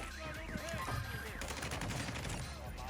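Rapid automatic gunfire from a meta loadout gun in the video game Warzone crackles in dense bursts, loud and continuous over the short span with no pauses.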